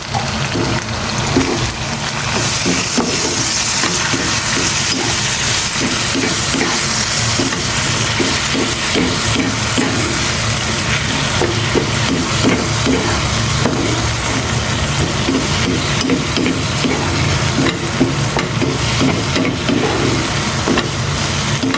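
Ground shrimp paste sautéing with sugar and vinegar in a pan, giving a steady, loud sizzling hiss with faint stirring scrapes throughout and no talking.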